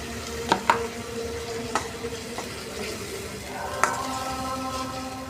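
Spices being sautéed in a pan give off a steady low sizzle with occasional sharp clinks and scrapes of a utensil stirring against the pan, fairly close, with no talking.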